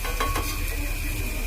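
Potato chips frying in hot oil, being kept pale while they cook, give a steady close sizzle with low bubbling, broken by a few light stirring or utensil clinks near the start.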